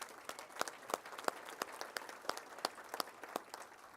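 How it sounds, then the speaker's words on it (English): Sparse, fairly quiet applause from a banquet audience at a girls basketball hall of fame awards dinner, with individual claps distinct and spaced irregularly. "give a round of applause for that"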